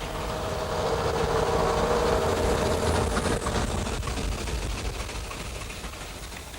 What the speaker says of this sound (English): She is the line's most powerful diesel with a tremendous turn of speed.